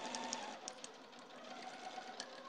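A sewing machine with a worn needle runs steadily while piecing a square-in-a-square quilt block, a faint, even hum with a few soft repeated thunks as the needle punches through fabric, no voices.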